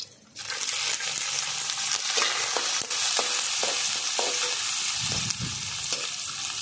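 Whole green chillies, chopped onion and garlic frying in hot mustard oil, a loud, continuous close sizzle with occasional utensil knocks and scrapes against the pan.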